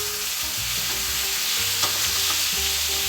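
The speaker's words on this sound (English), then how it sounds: "Now let's flip our steak." Steak sears in a hot pan with butter, fresh garlic and thyme, a close, steady sizzle with a few scrapes and a brief clatter as the meat is flipped, no talking.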